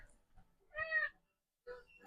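A ginger cat meows twice in a home kitchen, a clear drawn-out meow followed by a shorter second one, close and alone with no talk.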